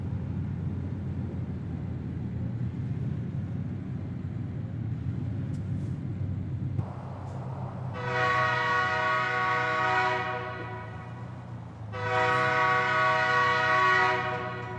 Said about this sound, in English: There is definitely a train coming